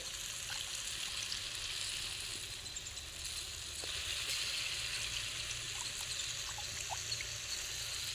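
Water sloshes and trickles steadily as chicken feet are rinsed by hand, a continuous wet splashing with no voices.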